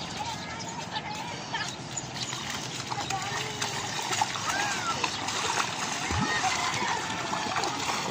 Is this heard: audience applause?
no